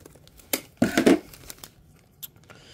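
Plastic and cardboard packaging around an anime statue is cut and torn open, a couple of sharp crinkling rips and a short rustling tear close by, with no talking.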